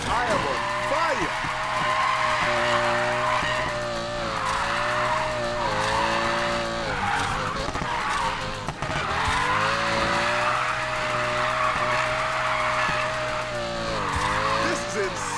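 A race car drifting in Need for Speed Payback, with a steady, high engine roar and long, continuous tire squeals and skids that rise and fall as it slides, while someone talks over the action.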